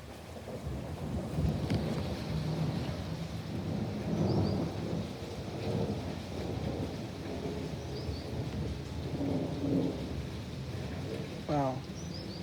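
Severe thunderstorm in Columbus with strong winds and intense lightning: steady heavy rain hiss throughout, with rumbling thunder swells and distant low booms, while a voice speaks faintly at times.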